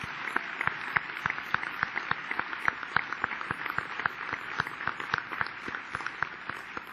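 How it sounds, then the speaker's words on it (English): Applause at a road-safety conference honoring award recipients, a moderate room-filling patter of many hands with distinct individual claps standing out, steady throughout with no talking. "give the honorees another round of applause for their great work"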